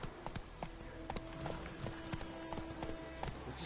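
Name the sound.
horse galloping in a video game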